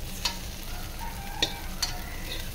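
Onion and potato pieces fry in a little oil, a soft continuous sizzle close by with a few sharp clicks of a utensil against the pan, no voices.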